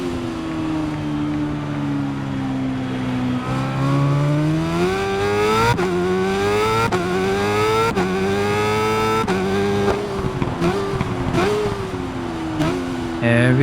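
A BMW S1000RR superbike screams around a racing circuit in the Ride 5 game, its loud engine climbing through rapid upshifts with brief gaps between gears, then dropping as it brakes into a corner, with a commentator's voice underneath.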